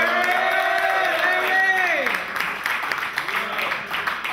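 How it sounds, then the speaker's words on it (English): Loud audience applause and cheering at a live basement comedy show in a club, steady clapping with whoops and shouted voices over the crowd, continuous throughout. "Big round of applause for Larry Love."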